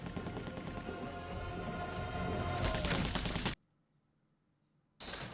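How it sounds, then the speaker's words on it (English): Rapid bursts of gunfire from a people-shooting-each-other scene in Good Omens, dense crackling volleys that build for several seconds, cut to near silence, then return briefly, loud and without talk. "There are people out there shooting at each other."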